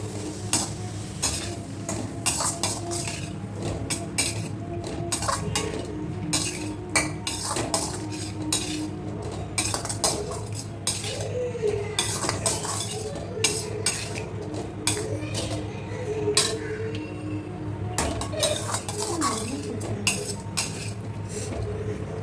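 Boiled chickpeas for sundal are stirred in hot oil in a pan. A metal spoon keeps clinking and scraping against the pan over a faint, steady sizzle, with no talking.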